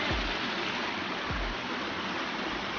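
A waterfall inside a cave gives a steady, loud broadband rush of falling water that fills the whole space, with a couple of faint low thumps and no talking.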